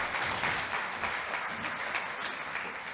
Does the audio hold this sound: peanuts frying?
no